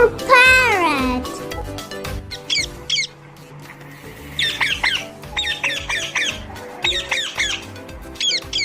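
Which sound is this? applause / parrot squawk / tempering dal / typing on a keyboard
parrot squawk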